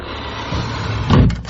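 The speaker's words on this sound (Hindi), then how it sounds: "उसने ड्रॉर को बंद किया" A drawer sliding shut as a radio drama sound effect, a brief close scraping glide ending in a low thud, followed by a couple of faint clicks.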